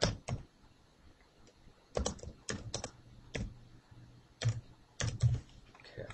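VBA code being typed on a computer keyboard: scattered bursts of quick key clicks with short pauses between clusters, close and fairly quiet.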